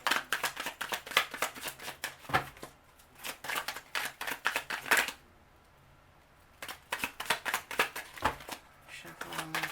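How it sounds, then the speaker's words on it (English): Tarot cards being shuffled by hand in quick, papery bursts that repeat many times, close and fairly loud, with one short quiet pause in the middle. "Shuffle one more time."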